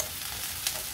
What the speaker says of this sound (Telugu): ఇదంతా బాగా మిక్స్ చేసి